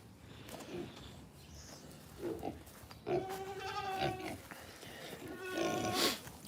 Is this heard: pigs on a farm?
yes